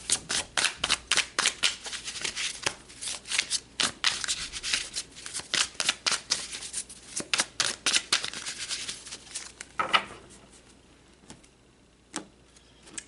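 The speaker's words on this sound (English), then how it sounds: "So let's pull some more cards." Tarot cards shuffled by hand in a steady run of quick, close riffling flicks, dense and fairly loud, then slowing to a few separate card slaps as cards are drawn.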